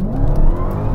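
Dodge Challenger Demon launching off the line in a drag race against a Porsche 911 Turbo S, its tires spinning as the engine roars loud and close in one continuous, rough burst.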